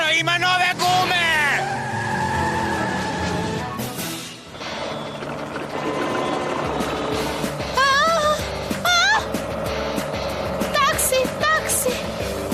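A cartoon car peels away with loud squealing, skidding tires, mixed with music and other animated sound effects throughout.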